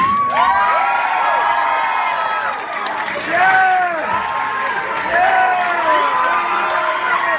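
A lively crowd at a deathcore concert cheers and whoops loudly, with many shouting voices and some clapping mixed in throughout.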